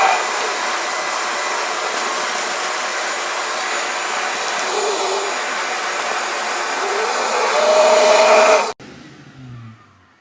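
A shop vacuum roars steadily through a Dust Deputy cyclone dust separator, a loud continuous whoosh that cuts off abruptly near the end, leaving a fading spin-down.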